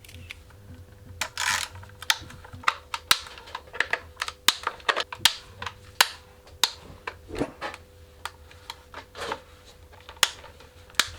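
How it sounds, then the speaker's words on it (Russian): A ratchet loosens the valve cover bolts on an Opel Z16XER engine, giving rapid, close mechanical clicking in irregular bursts that continue steadily without talk. "Откручиваем клапанную крышку."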